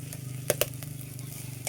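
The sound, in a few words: stirring fried rice sizzling in a pan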